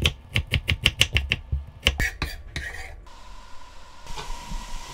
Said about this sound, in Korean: 썰어서 다져가지고 넣자